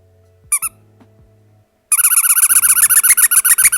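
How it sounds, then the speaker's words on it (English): Squeaky toy hammer squeezed near the microphone, one short double squeak followed after a pause by a long run of rapid, loud, high-pitched squeaks. "Yes, it'll be a squeaky hammer."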